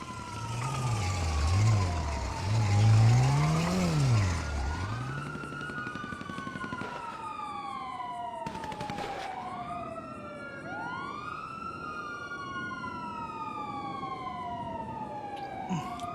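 A police car siren wails and sweeps up and down, first close and loud with a rumbling motor, then fading into repeated rising whoops further off, with no talk over it.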